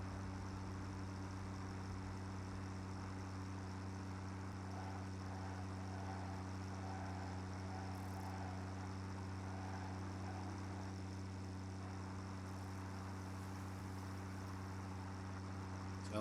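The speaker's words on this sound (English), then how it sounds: "Sounds like there's some big ass truck that's sitting outside." A big truck idles somewhere outside, its low, steady diesel drone rumbling on without a break, even and continuous throughout, with no voices.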